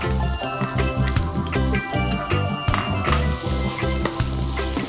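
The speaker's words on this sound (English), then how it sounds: "So now we add the corn, beautiful yellow corn here." Yellow corn tipped into a hot pan of onions for a corn samosa filling, giving a loud, steady sizzle with faint stirring and scraping underneath and no voices.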